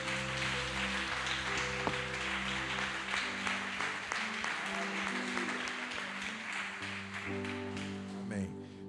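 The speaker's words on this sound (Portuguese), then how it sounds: "Vamos aplaudir o nosso Senhor Jesus." A church congregation applauds together, a continuous round of clapping that runs under sustained keyboard chords and held musical notes throughout, with a few sharper claps standing out.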